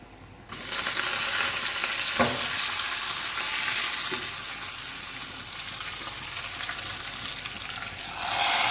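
Red chilies and cumin seeds hit hot oil for a dal tadka and set off a loud, continuous sizzle, with a brief clack of a utensil partway through.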